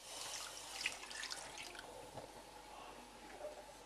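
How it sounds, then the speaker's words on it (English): Water poured from a tap or jug into a pot over marinated pork on a stove for griots, a soft continuous splashing stream with small droplet sounds, faint and close, no talking. "we're going to put the marinated pork on the stove and just add water"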